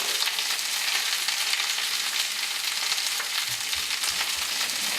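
Asparagus and onions frying in a pan give a steady, close, bright sizzle with faint stirring bumps, no voices over it.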